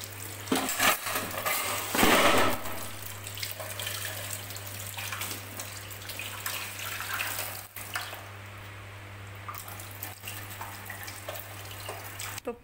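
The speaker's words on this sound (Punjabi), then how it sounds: "ਇਹ 'ਚ ਆਪਾਂ ਪਾਣੀ ਪਾ ਕੇ ਰੱਖ ਦਿੰਦੇ ਹਾਂ।" Water poured into a container in a home kitchen, a steady splashing pour loudest near the start and easing off as it continues, with a low steady hum beneath.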